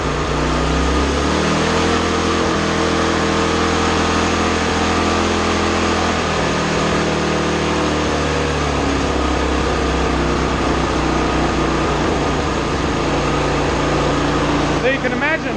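A Toro Timemaster lawn mower's small engine runs steadily at high revs with a governor, loud and continuous, with a brief rise in pitch early on and a person speaking over it.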